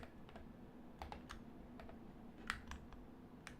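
Quiet, scattered keystrokes tap on a computer keyboard at an uneven pace, close up over a low background hum, with no speech.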